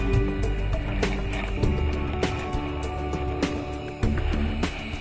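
Boat engines heard underwater while diving off Punta Cana, a low continuous rumble with periodic clicks and knocks, sounding close though the boats pass some distance away.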